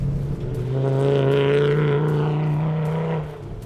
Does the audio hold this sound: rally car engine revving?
yes